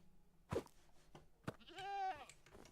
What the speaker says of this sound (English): Hello, goat.